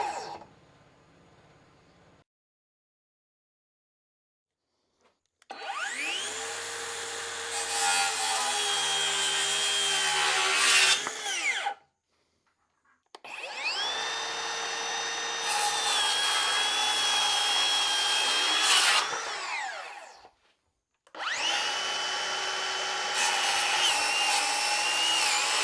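Two circular saws, a Craftsman and a Kobalt, ripping through wood in three loud bursts of about five to seven seconds each, with high motor whine over the cutting noise and short silent gaps between the cuts.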